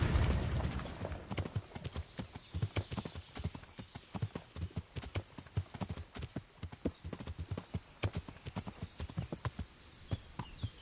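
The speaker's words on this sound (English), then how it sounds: "Come on, horse. You can do it." Horse hooves in the medieval game Kingdom Come: Deliverance: a steady clip-clop of a trotting horse, close and even-paced, with faint ambient sound beneath.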